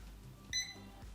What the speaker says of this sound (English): you'll hear the beeps like that, just to warn you that, hey, maybe you should look at opening a window